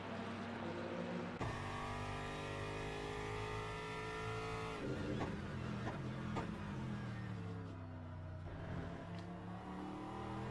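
Onboard, a race car in Le Mans Ultimate laps Spa in a multiclass race, its engine droning loudly and steadily with pitch climbing, then dropping sharply at each of several gear shifts.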